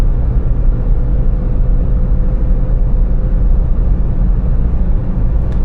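MG Gloster SUV cruising at about 100 km/h and 1750 rpm, a steady low engine and road rumble filling the cabin evenly throughout, with no talk over it.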